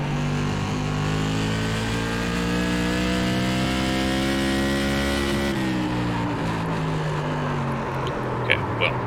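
Tour Mod race car engine in iRacing at Irwindale, droning steadily at high revs and sweeping in pitch as it enters a corner, then easing off with some clicks near the end, loud and unbroken.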